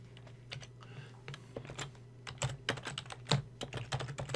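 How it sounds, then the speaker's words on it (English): Quick, irregular keystrokes tap on a computer keyboard close by, clicking steadily for a few seconds with a soft background hum and no voice. "we'll type it in here"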